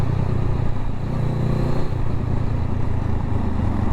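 A nearby motorcycle engine idles and runs with a steady low rumble and a slight rise in pitch partway through, loud and continuous.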